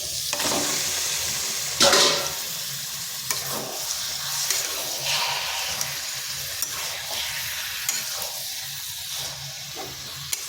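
Meat dropped into a pan of fried spice paste for a Makar festival mangsho pitha, sizzling and hissing steadily up close while it is stirred, with a few sharp scraping bursts along the way.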